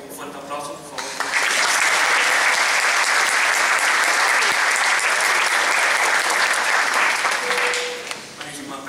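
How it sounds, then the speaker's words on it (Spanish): A concert audience at an international guitar festival in Cartagena applauds a guitarist, building quickly into a loud, dense, sustained ovation that holds steady for several seconds and then tapers off. "un fuerte aplauso, por favor"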